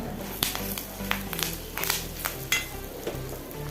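Turmeric powder and curry leaves hit hot oil and crackle steadily, broken by scattered clinks of a spoon against the pan, over soft background music.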